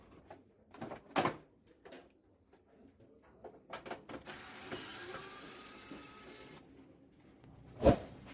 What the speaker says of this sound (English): To access the printer's main board, you will need to remove the printer covers first.